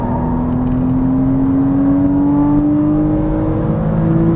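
A Porsche Cayman S accelerating on a race track, a loud steady engine drone from close by whose pitch climbs gradually as speed builds, with no talking.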